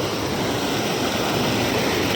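Floodwater from a swollen river rushes steadily through drainage culverts, a loud continuous broadband roar close to the microphone with no break or voices.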